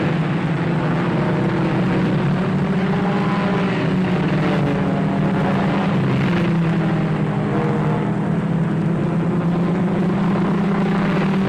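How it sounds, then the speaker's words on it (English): Race cars lapping a track in a 1954 racing film: a dense, loud, unbroken engine drone with a steady rumbling tone and no clear individual passes. "Bill Myers at 55 is driving cautiously"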